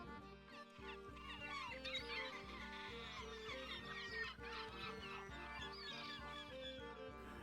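Pet birds cluck and chatter continuously at low volume indoors, a busy overlapping stream of clucks and calls with no clear pauses.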